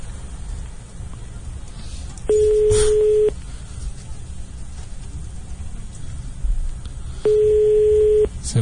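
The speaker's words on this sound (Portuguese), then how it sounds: "Tá chamando." An outgoing phone call rings through a handset, two long tone bursts about five seconds apart over a low hiss and faint background noise.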